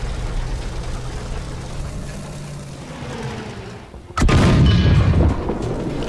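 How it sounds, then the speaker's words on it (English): A tank cannon firing in War Thunder realistic battle, a single loud booming shot erupting partway through after steady engine rumble, with the blast ringing on afterward. "Unfortunately, that shot went completely over him."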